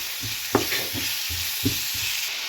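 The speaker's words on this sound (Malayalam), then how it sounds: "നമ്മൾ സവാള എണ്ണയിലൊന്ന് വഴറ്റിയെടുക്കാം" Chopped onions salted and sautéed in oil, with a constant sizzle under rhythmic scraping strokes of a spatula against the pan, a few sharper knocks standing out.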